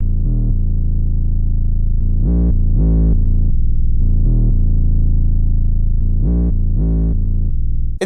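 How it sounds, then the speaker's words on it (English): A beat run through the Reaper saturation module, with deep, warm, distorted bass notes pulsing in a repeating pattern, loud and alone. "In Reaper you also have a saturation module."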